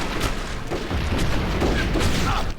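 Cannon fire and battle booms in the western shooter Red Dead Revolver, a dense, continuous barrage of deep blasts layered over one another, loud and unbroken through the whole stretch.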